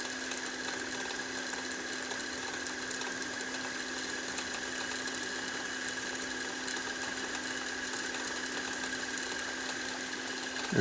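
A Technics RS677 cassette deck rewinding tape gives a steady, even mechanical whir with a faint hum, running unbroken at low level throughout.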